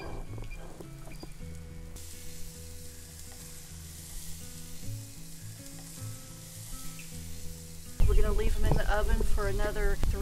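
Hamburger patties sizzle steadily on a grill, a soft continuous crackle under a talking voice, with a louder, busier burst of spitting sizzle near the end.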